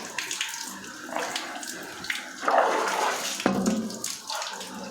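Water running into a dual flush toilet cistern during a flush valve replacement, a steady hiss and splashing trickle that swells partway through, heard close with no talking.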